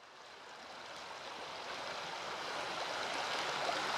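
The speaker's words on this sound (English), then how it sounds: "I love the sound of running water." Running water of a cold outdoor stream, a steady broadband rush that swells slightly louder over a few seconds, heard alone at moderate distance.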